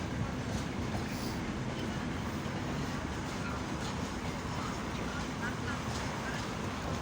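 An ET2M electric multiple unit train passes at a distance as a steady rumbling rail roar, heard faintly, with a person speaking over it.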